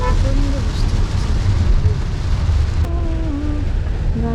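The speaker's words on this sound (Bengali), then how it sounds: "প্রচণ্ড বৃষ্টি হচ্ছে" Heavy downpour drumming on a car during a highway drive, a loud, steady wash of rain and road noise throughout, with a voice singing or humming over it.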